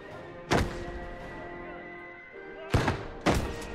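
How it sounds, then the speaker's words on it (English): A 60mm mortar fires in the video game Gates of Hell: Ostfront: three heavy, hollow thumps, the last two close together, over a steady droning game soundscape with a faint voice. "But we only have a 60mm mortar"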